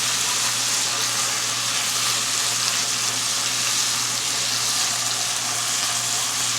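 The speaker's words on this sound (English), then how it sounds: "You want to make sure you're sauteing on all your vegetables over a relatively high heat." Jambalaya vegetables sauté over high heat in a pan, giving a steady, even sizzle and crackle that runs unbroken and fairly loud, with a low constant hum beneath and no voices.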